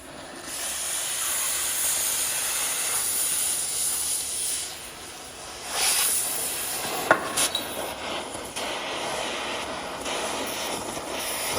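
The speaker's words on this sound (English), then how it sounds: "I just rest my torch right on the axle and push it, and it will go right through there" A cutting torch burns through a Suzuki Samurai front axle with a continuous loud roaring hiss, swelling at moments and joined by a few brief metallic pops and crackles.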